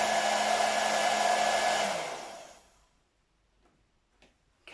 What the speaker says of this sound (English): Now this time I'm going to switch off the hairdryer.